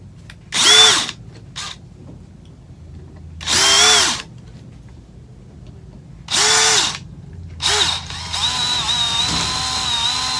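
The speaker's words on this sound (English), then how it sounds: "I got my 1/8 inch drill bit in my DeWalt. I'm going to try to drill the pilot hole for the extractor." A DeWalt cordless drill with a 1/8 inch bit bores a pilot hole into a stuck bolt in several loud, close bursts of whining motor, separated by pauses, with a steadier whir at the end.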